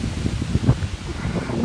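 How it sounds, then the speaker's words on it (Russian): Strong cold wind gusts by a canal, rustling and bending the reeds in a dense, steady roar of close microphone buffeting and hiss. "Ветрюган страшный, холодина тоже. Видите, как камыши гнутся."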